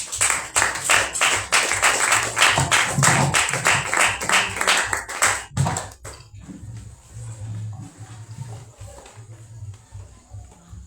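Rhythmic clapping from a congregation at a church gathering, loud and close with a steady beat, fading out abruptly after a few seconds, leaving faint background voices and a low hum.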